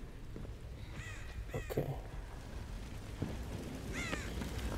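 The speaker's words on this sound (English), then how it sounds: "I'm just running into all these crows" Crows cawing in the video game Dead by Daylight, several harsh caws in bursts around a second and four seconds in, over a low background, with a brief spoken word.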